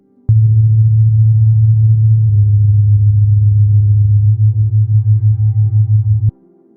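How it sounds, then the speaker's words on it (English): Steady pure sine tones in a binaural-beat setup, a low continuous hum that holds evenly for several seconds, then develops a rhythmic pulsing throughout its later part before stopping abruptly, with no other sounds. "Different frequencies in each ear create the perception of a third tone."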